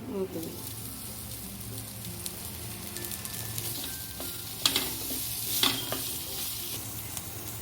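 Boiled potato pieces and pepper sizzle and crackle in a pan, with a few scraping stirs and clatters over a steady frying hiss.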